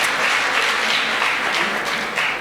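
Dense, steady applause from a graduation ceremony crowd celebrating a speaker, loud and continuous throughout with no voices over it.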